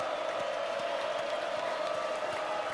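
A college football crowd at Ullman Stadium gives off a steady, dense roar with no distinct claps or shouts standing out, holding at an even level for the whole stretch.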